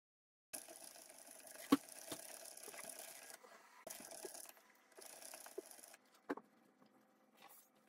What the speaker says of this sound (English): we're just going to crank, crank, crank, crank until we get there